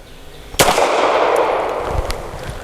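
A single loud, close gunshot from a Bersa TPR 380 pistol cracks sharply and rings out with a long decaying echo, followed by faint clatter.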